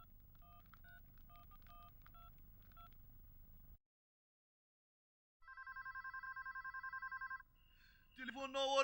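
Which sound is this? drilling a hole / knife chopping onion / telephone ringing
telephone ringing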